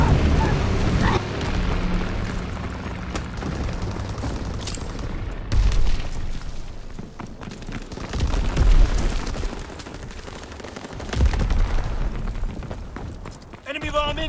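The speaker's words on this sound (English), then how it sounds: "Enemy bomb incoming. Get to cover." Bombs explode during a World War II shooter match in Call of Duty: WWII, with heavy low booms and rumbling blasts among gunfire, while voice callouts run throughout.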